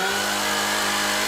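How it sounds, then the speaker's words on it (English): A chainsaw sound effect buzzes steadily and loudly for a moment, with a continuous high engine whine and no voices. "He has chainsaws literally everywhere."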